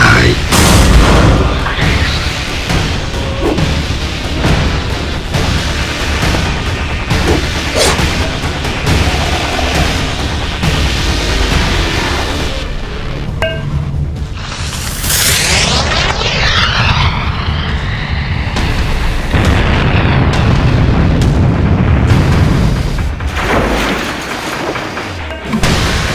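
Gunfire and explosions from a video game, a dense, loud, continuous barrage of booms, blasts and roaring engine-like noise with sweeping whooshes, with voices shouting over the chaos throughout.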